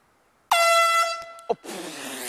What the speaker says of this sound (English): This is called the golf course air horn.